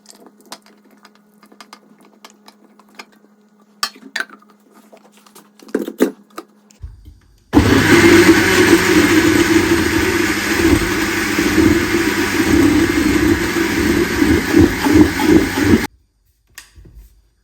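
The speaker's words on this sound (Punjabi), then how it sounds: "ਇਹ ਜਿਹੜੇ ਟਮਾਟਰ ਆ ਇਹਨਾਂ ਨੂੰ ਇਹਦੇ ਵਿੱਚ ਪਾ ਕੇ ਪੀਸ ਲੈਣਾ" A mixer grinder blends tomatoes into paste for a raw turmeric gravy. After a few quiet clicks and handling sounds, it roars loudly and steadily for about eight seconds, then cuts off abruptly.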